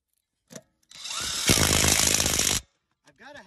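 Ryobi cordless impact wrench spinning off lug nuts during a brake job: a short burst, then a loud steady whirring run with rapid hammering lasting about a second, close up, ending abruptly, with brief speech afterward.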